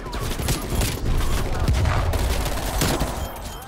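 A MAC-10 submachine gun fires rapid bursts in the video game Black Ops Cold War, with loud, dense automatic gunfire and booming impacts running across the whole clip.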